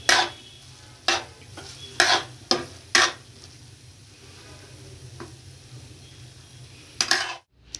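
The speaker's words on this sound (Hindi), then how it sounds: "थोड़ा गरम मसाला डाल रही हूँ, इसको मिक्स कर लें।" Beetroot and pea sabzi being mixed with a spoon in a pan after garam masala is added, heard as a few sharp scraping stirs about a second apart, then a quiet stretch and a final pair of scrapes.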